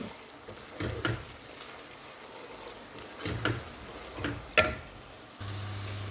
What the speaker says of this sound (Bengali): দিয়ে আমি মশলাটা আস্তে আস্তে কষিয়ে নেব